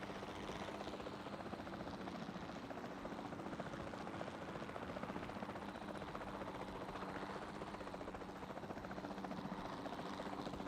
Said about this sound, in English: I'm struggling to have my helicopter go up in elevation.